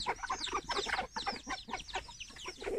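Farmyard chickens in a rural Thai village clucking close by in quick, busy bursts of overlapping calls with short gaps, fairly loud throughout.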